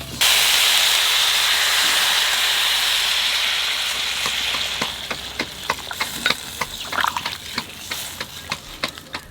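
Water poured into a hot pan of fried stingray cooked village style, giving a loud steamy hiss that fades over several seconds into sharp crackling sizzle pops, with no talk.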